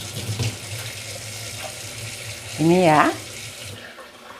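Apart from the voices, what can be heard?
water running from a kitchen tap in Switzerland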